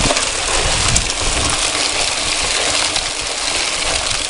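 A DIY bucket trommel tumbling and washing gravel and clay: a dense, loud, continuous rattle of stones and splashing water, steady without pause and no voices.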